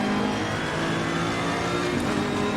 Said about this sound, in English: The sound of that AMG in my right ear is outstanding.